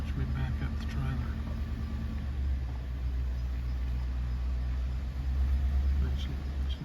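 A vehicle idles and creeps in reverse while backing up a trailer, a steady low engine rumble running throughout at close range, with faint background noise and no clear talk.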